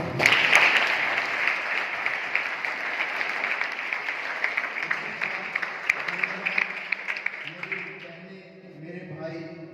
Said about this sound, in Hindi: उनके लिए मैं जोरदार तालियों का स्वागत करना चाहता हूँ